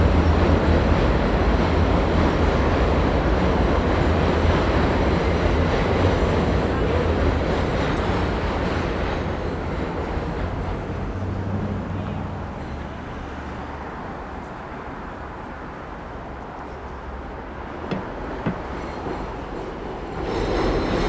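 A New York City number 7 subway train roars past near Court Square Station in Queens with a loud, continuous rumble and clatter that gradually eases into a softer, steadier drone.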